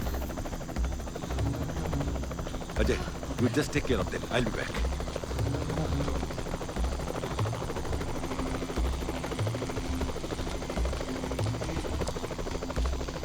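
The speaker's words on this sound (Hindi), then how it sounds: "हेलीकॉप्टर।" A helicopter's rotor thumps steadily in a continuous low, pulsing drone while people talk and shout over it.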